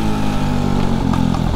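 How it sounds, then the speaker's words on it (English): A Honda Monkey 125 replica motorcycle with an aftermarket exhaust runs loud and close, a steady throbbing engine note with a brief dip as the revs shift near the end. "It's got the nice aftermarket exhaust, so it makes a bit of noise, and a nice noise at that"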